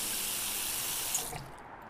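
In the Cooking Simulator game, a tap runs a steady stream of water into a pot to fill it with a liter. The rush is even and close for over a second, then cuts off and leaves a faint trickle.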